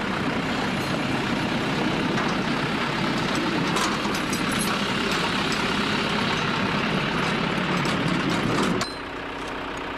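A tractor engine idles and rumbles steadily at close range while it moves a heavy wooden gamellón, a drinking trough for livestock, with broadband noise sustained until the sound drops away near the end.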